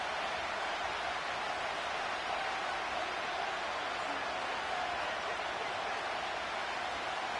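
Football stadium crowd roaring in a dense, steady wash of cheering noise during a tense goal-line moment, loud and unbroken throughout.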